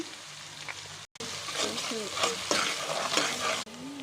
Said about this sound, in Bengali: এখন তেল দিলাম। এখন পেঁয়াজ দিয়ে দিলাম। পেঁয়াজটাকে ভেজে নেব।